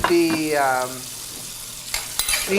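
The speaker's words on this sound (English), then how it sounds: "I think you're going to do some sauteing for the tomato soup" Onions, leeks and garlic sautéing in a pan for tomato soup give a short sizzle, opening with a brief tonal whine and ending in a few sharp utensil clicks.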